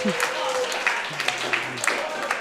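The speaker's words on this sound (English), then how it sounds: "Everybody's cheering." Crowd at an esports finals applauding and cheering for the champion, a steady broadband wash of clapping with a few sharper bursts, while a commentator's voice talks over it.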